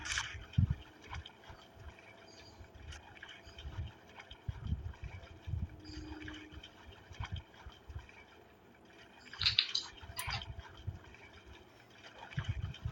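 Water splashes and trickles in the Roblox horror game Ophelia, faint gurgling and sloshing in irregular bursts against a quiet, hissy background.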